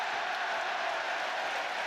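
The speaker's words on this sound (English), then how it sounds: "And the cheer." Football stadium crowd cheering at an Arsenal match against Leicester, a broad, even roar of many distant voices that holds steady for a couple of seconds with no single voice standing out.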